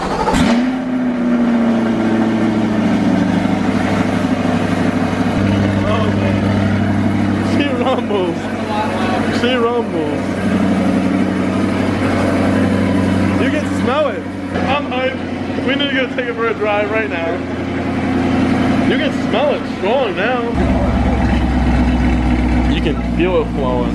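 Chevrolet Corvette C8 with LTH headers and high-flow catalytic converters starting up, a loud engine catching and settling into a deep burbling idle, with occasional revs and people talking over it.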